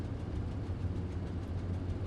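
The Spruce Goose flying boat's engines idle in a flight simulator game, giving a steady low rumbling drone that stays faint and even throughout, with no voices.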